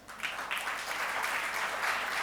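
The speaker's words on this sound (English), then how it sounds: "Big round of applause, ladies and gentlemen, for Dr. Maria Zina Johnson" An awards ceremony audience applauds steadily for about two seconds, a dense, even patter of many hands clapping at moderate loudness.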